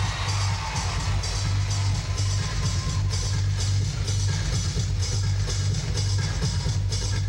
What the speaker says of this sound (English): She's got the crowd with her. They're all clapping.